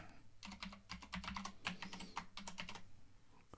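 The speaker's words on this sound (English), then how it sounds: "just sit down and start typing" Rapid typing on a computer keyboard, a dense run of clicky keystrokes in close, irregular bursts heard alone.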